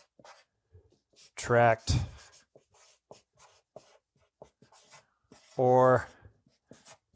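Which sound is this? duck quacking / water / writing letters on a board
writing letters on a board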